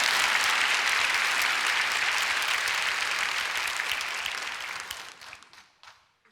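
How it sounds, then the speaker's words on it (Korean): A church congregation applauds with dense, sustained clapping that fades away and breaks into a few scattered claps at the end. "이때 박수를 쳐야 돼, 사실은."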